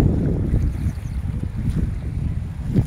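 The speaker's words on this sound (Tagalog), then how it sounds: "Ang lakas ng hangin." Strong wind buffeting the microphone beside water near a temple in Mysore, a constant low rumbling gusty roar with swelling bursts and no talking.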